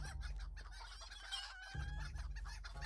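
Chickens cluck in the video game Lord of the Rings Online, with clustered, close, moderately quiet calls and a brief pause midway, and no voices heard.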